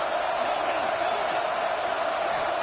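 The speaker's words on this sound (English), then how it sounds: "listen to this crowd noise" A big college football stadium crowd roars in a steady, dense wash of cheering, loud and sustained without a break.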